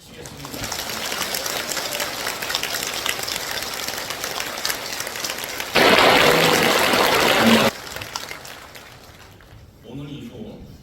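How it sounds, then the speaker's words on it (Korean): A church congregation at a pastor's inauguration thanksgiving service gives steady applause that swells into a louder burst midway, then fades, with a voice returning at the end. "박수를 치겠습니다."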